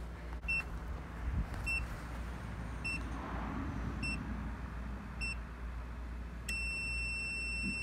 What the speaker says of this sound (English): Then it's gonna make a continuous beep.